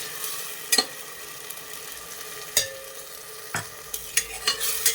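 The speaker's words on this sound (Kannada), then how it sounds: "ಈರುಳ್ಳಿ ಚೆನ್ನಾಗಿ ಫ್ರೈ ಆಗಿದೆ. ಸೊ ಇದನ್ನು ಆ್ಯಡ್ ಮಾಡಿಕೊಂಡು" Onions frying in a pan for chicken biryani, a soft steady sizzle broken by several sharp scraping knocks of a spoon stirring, close and fairly quiet with no talking.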